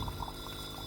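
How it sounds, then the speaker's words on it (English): Hot water from a Sage espresso machine poured into a cup to preheat it, a brief, steady splashing trickle heard up close, with no voices. "I'm just going to preheat my cup by adding a little bit of hot water in"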